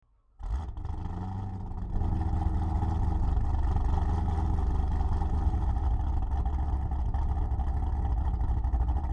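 A Mazda MX-5 engine in the racing game Assetto Corsa bursts in after a brief silence and holds a loud, steady mid-pitched drone, climbing slightly as the revs build and sustaining to the end.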